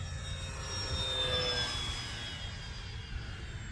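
An Arrows F4U-4 Corsair warplane makes a full-speed pass into the wind, its engine a loud, sustained whine that slides down in pitch as it sweeps past, with no voices.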